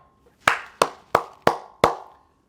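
Five sharp hand claps in a steady, slightly uneven rhythm, close and fairly loud, each with a short ringing decay in a quiet room, with no talking.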